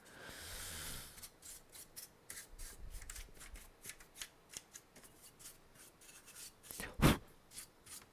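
Repeated soft brushing strokes sweep dust off a Neo-Geo AES console's hard surface, a steady series of short scratchy swipes with one louder scrape near the end.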